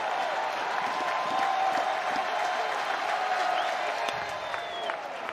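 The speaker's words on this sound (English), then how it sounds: "Comes this crowd again." Large crowd cheering and applauding at a college baseball championship game between Florida and South Carolina, a steady roar that holds throughout.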